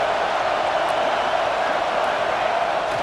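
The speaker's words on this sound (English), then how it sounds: "This dog crowd is off the leash, and they are coming after them, bringing noise on third down." Stadium crowd in the EA Sports College Football 26 video game roars on third down, a loud, dense, continuous wash of cheering noise with no breaks.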